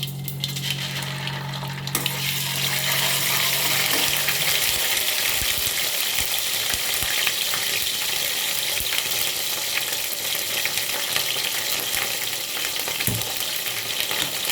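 Ginger garlic paste hitting spices tempering in hot oil in a pan, with loud, steady frying and sizzling throughout, a brief low hum at the start and occasional stirring clinks.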